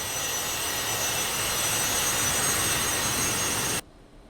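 Steady, loud jet whine and roar of a Saab Sk 60 training jet taxiing on the apron in a flight simulator game, a constant broadband drone that cuts off abruptly near the end, leaving faint hum.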